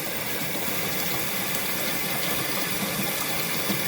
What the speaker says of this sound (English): I'm filling the bucket for the second time with cold water